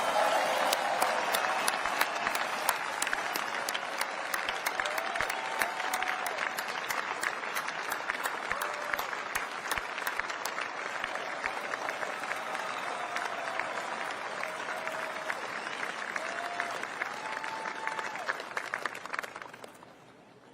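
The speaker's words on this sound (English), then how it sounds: "please join me in a round of applause for our team" A large crowd at the B-21 Raider bomber unveiling ceremony applauds steadily for about twenty seconds, with a faint sustained tone beneath the claps and a slight fade at the close.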